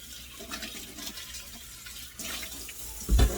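Running tap water splashes onto an All-Clad stainless steel pan to wet it before cleaning, a soft, close wash of flowing water with a brief louder thud near the end.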